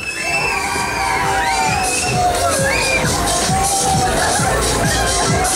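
Girls scream loudly and repeatedly on a spinning waltzer fairground ride at Southend, high wavering shrieks overlapping with crowd cheering and a thumping rhythmic beat underneath.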